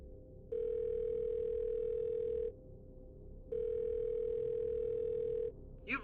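A phone call to a number rings out as two long, steady ringback tones of about two seconds each, separated by a pause, followed by the start of a voicemail greeting.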